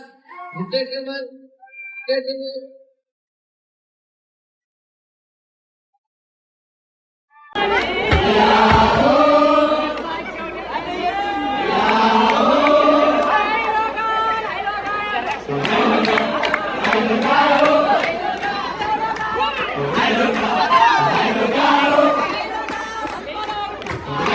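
A wedding audience breaks into loud, continuous clapping and cheering after a short pause, with crowd voices and shouts mixed in throughout.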